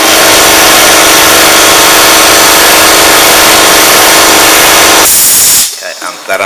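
Air compressor unloading after being switched off, a loud steady hiss of released pressure that cuts off abruptly near the end, followed by faint quieter sounds.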